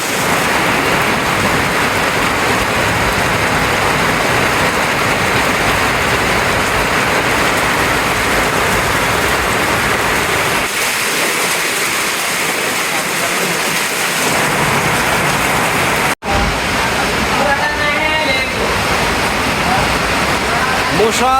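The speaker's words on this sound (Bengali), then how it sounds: "দুনিয়ার বৃষ্টি নেমে গেছে গা" Heavy rain pours down in a dense, loud, unbroken roar close by, easing briefly partway through before surging again, with a sharp momentary cutout near the end.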